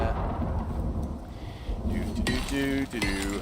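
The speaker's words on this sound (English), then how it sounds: "Well, of course we're gonna have a flash storm right now." A flash storm in the video game Icarus brings deep rolling thunder that rumbles loudly for about two seconds, followed by ringing metallic clinks.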